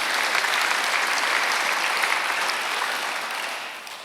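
A congregation applauds together during a Sunday worship service at a Korean church: a dense, loud, steady wash of many hands clapping that eases off slightly toward the end.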